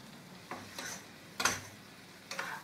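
Tomato added to a Mauritian jackfruit curry in a pan: a faint, low sizzle with a few soft clinks and stirring scrapes spaced apart, quiet and close, without voices.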